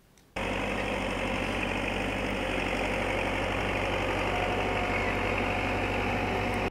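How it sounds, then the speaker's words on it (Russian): Tractor engine breaking a road through deep snow in a forestry area, starting abruptly and then running as a loud, steady, close rumbling drone with a low knocking pulse. "Трактор, пробивающий дорогу по снежной целине"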